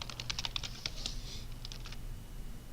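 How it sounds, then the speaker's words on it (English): Quick, light keystrokes on a computer keyboard, a short burst of clicks followed by a few more taps, close and quiet in a still room. "then just type in like your name or something"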